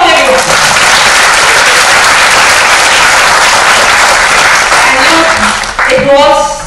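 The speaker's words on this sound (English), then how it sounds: "Round of applause, everyone." A large audience at a cultural talk gives a loud, dense round of applause lasting several seconds before fading out as a voice resumes.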